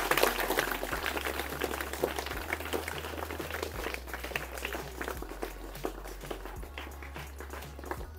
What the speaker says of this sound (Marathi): तर खरंच शिक्षकांसाठी एकदा टाळ्या करा.